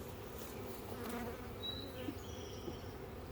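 Honeybees at a bee yard hive buzz in a steady, close, continuous drone, with a few individual bees whining past.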